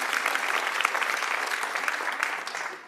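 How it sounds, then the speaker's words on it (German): Comedy stage audience applauding a stand-up comedian: a dense, even roar of clapping that holds steady, then thins out at the end, with no speech. "Der Applaus tut gut in der Seele."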